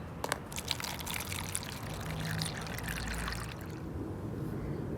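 Water pours and trickles onto a sand and soil erosion model in a classroom earth-science setup, a continuous close splashing flow with small spatters early on.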